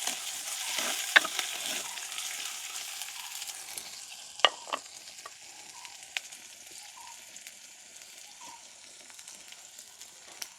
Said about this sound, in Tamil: சின்ன வெங்காயம் கொஞ்சம் பொரிக்கணும் எங்களுக்கு